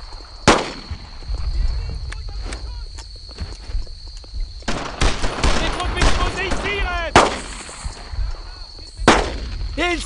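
Sharp gunshots and short automatic bursts crack out in the World War II shooter Brothers in Arms: Earned in Blood, spaced irregularly among footsteps and battle clatter, with voices shouting in between.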